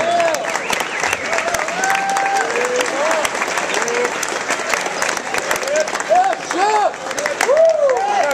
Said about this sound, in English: And let's give him a nice round of applause again.